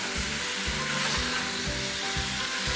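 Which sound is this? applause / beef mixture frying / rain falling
beef mixture frying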